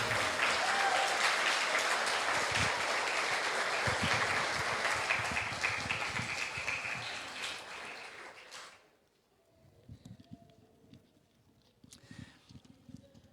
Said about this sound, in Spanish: Amén, aplaudile.